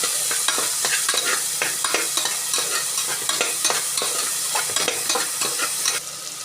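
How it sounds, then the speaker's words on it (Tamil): Onions and fennel seeds sauté in a pan for a goat thonjal curry. A steady close sizzle runs throughout, broken by frequent scraping stirs, with no talking. "பெருஞ்சீரகம் கொஞ்சம் போட்டு நல்லா வதக்கணும்"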